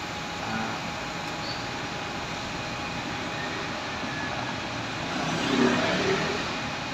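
Congested street traffic in Sirimundo, a steady roar of car and motorcycle engines with a rise as a vehicle accelerates near the end, continuous and fairly close, no speech.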